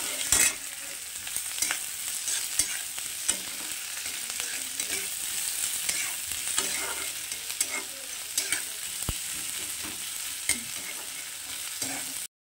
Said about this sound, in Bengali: পেঁয়াজ তো ভাজা হচ্ছে